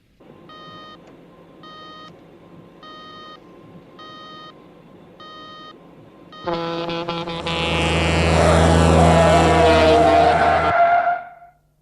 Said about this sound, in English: I've got an E alarm.